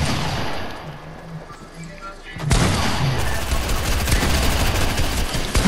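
Gunfire in a video game erupts into a loud continuous barrage halfway through, following a quieter stretch of ambient game sound with some voices.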